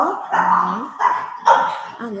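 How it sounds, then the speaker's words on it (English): A pet dog named Jack barks indoors, three loud close barks with whining yips between them, spaced about half a second apart. "he's just going to bark. He's a dog. Dogs bark."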